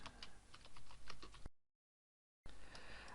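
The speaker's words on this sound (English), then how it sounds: "So I'll just type that in" Rapid clicking of keys on a computer keyboard while entering a title into a web form, steady close typing that breaks off into a second of silence, then resumes.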